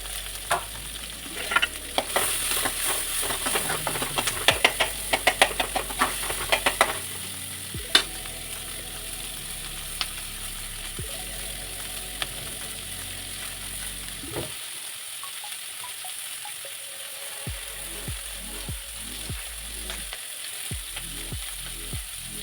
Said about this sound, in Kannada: ಅದರ ಮೆಣಸಿನಕಾಯಿ ಹಾಕ್ತಾಯಿದ್ದೀನಿ.